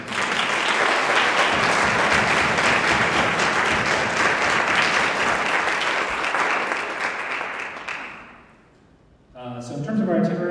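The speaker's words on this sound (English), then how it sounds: "let's give them all a round of applause" Audience applause at a conference on refugees, sustained loud clapping from a large room for about eight seconds before fading, followed by someone speaking.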